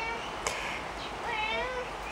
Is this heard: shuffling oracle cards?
no